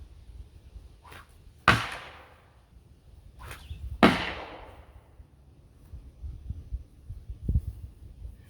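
A sling whirls a chunk of ice outdoors, giving two sharp, loud whooshing releases about two seconds apart, each trailing off into a fading hiss, with a softer thud and rustle later.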